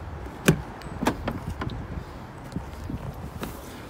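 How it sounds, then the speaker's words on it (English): Electric windows on a Volvo XC60 operating, with a few sharp clunks and short motor whirs spaced over several seconds, close and moderately loud. "Electric windows"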